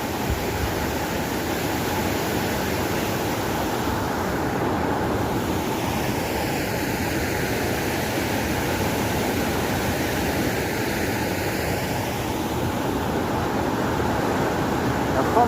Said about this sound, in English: The Gomka River in flood.